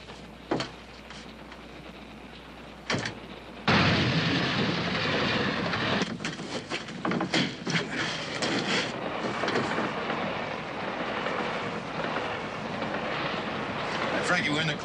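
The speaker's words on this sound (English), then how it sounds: "The train's heading into a 10-mile curve, so the engineer can't see in his rearview mirror." A train rolls along the rails, its wagons rumbling loudly with a rhythmic clickety-clack, after a quieter opening marked by a few sharp knocks.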